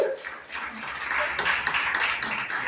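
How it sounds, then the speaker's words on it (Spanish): A church congregation applauds together, a steady wash of clapping that swells and holds for the whole moment, with voices mixed in. "Un aplauso fuerte al Señor"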